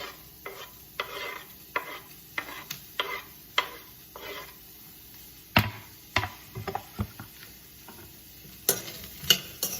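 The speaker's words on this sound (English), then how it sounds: "Now I'm going to add chopped onions and 1 serrano chili chopped" Chopped onions and a serrano chili sizzle softly in a dry, oil-free pan for an eggplant dish, with repeated scraping stirs and occasional sharper clicks of the utensil against the pan.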